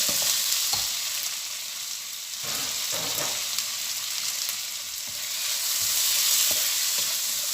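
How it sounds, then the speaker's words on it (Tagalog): Tomatoes, garlic and chili sauté in a hot pan for an ampalaya dish, with a bright continuous sizzle, a few utensil clicks and stirring scrapes, close up and without talking. "yung kamatis, natin guys, igisa natin hanggang lumambot siya"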